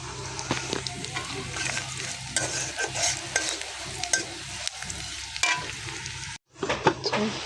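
Papaya bhaji frying and being stirred in a pan on a gas stove, a dense steady sizzle with frequent spatula scrapes, cutting out briefly near the end before resuming.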